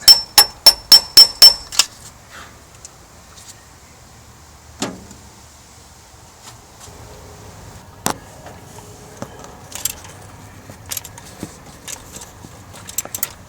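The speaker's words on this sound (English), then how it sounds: "driving the pulley into position by tightening the nut" Metal tools on a Triumph TR3/TR4 water pump as a nut is tightened to drive the pulley into position: a quick run of seven sharp knocks at the start, then scattered clicks and taps over a quiet background.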